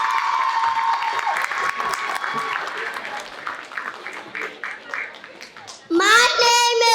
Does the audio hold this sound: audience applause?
yes